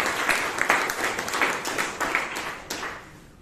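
An audience at a Toastmasters club meeting applauds steadily, dense overlapping claps at moderate volume with no speech over it.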